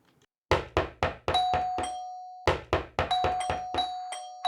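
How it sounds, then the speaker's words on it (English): Knocking and doorbell ringing at a front door: bursts of sharp, loud knocks in quick rhythmic runs, interleaved with ringing bell tones, repeating in two clusters with a short silent gap between. "the immediate knocking and bell ringing"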